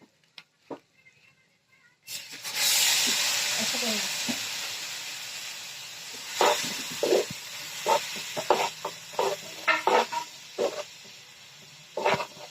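Cumin and coriander masala powder with salt and red chilli sizzles loudly in a hot pan after hot water is added, a steady steamy hiss followed by intermittent scraping stir strokes.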